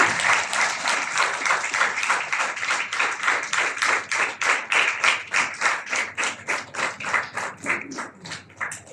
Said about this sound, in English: A huge round of applause for our alumni.